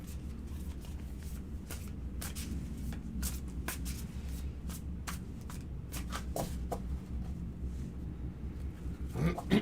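Tarot cards are shuffled steadily for several seconds, a dense papery riffle with brisk flicks, close and moderately quiet.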